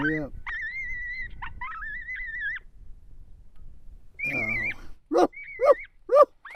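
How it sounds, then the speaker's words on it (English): Electronic predator caller playing a high, wavering coyote pup distress whine in two long drawn cries, followed by a voice and several sharper yelps and barks close by. "I now switch to stage 3 pup distress."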